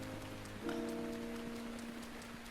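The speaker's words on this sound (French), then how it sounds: "La pluie va nous aider." Rain falling in Zelda: Breath of the Wild, a steady soft hiss of drops under sustained musical tones, with a faint hoof-like tapping now and then.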